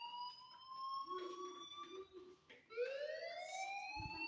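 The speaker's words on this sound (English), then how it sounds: "do you hear that fire alarm?" A fire alarm rings in the Life Is Strange video game, its rising electronic wail sweeping upward in repeated tones, fairly faint and unaccompanied by voices.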